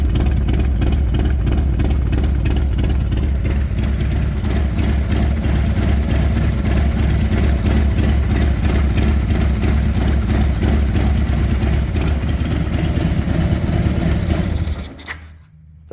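Harley-Davidson Road Glide Special with a 122 big bore engine idles steadily around 1,000 RPM, a deep, loud, continuous throb heard up close for about fifteen seconds before it shuts off.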